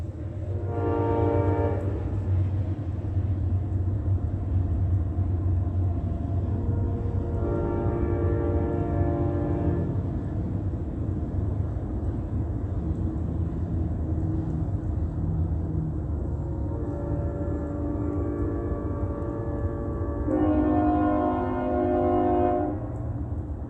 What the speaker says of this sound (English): Filling the atmosphere with noise while a train is physically running on the tracks.